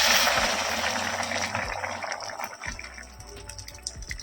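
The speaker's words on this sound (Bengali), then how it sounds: "আমি এবারে এতে দিয়ে দিচ্ছি গরম জল।" Hot water pouring into a pan of potato and pea curry for ghugni, a broad gushing splash that starts loud and tapers off into quieter bubbling and trickling, with no talking.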